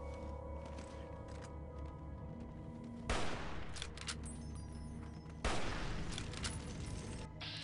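Hunting rifle gunfire in Fallout: New Vegas, two sharp, loud cracks a couple of seconds apart, each with a short decaying tail, over a steady low game ambience.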